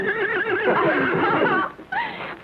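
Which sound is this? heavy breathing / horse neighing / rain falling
horse neighing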